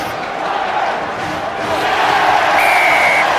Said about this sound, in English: And there's the crowd's reaction to the first try of the afternoon.